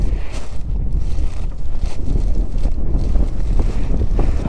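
A Hero Splendor motorcycle rolls through a small water crossing on a rough Ladakh trail between Diskit and Pangong Lake, with splashing and engine rumble under heavy wind buffeting on the mic.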